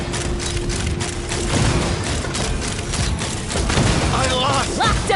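Rapid gunfire and booming explosions burst repeatedly in the Genshin Impact video game, dense and loud, with a character's voice briefly calling out near the end.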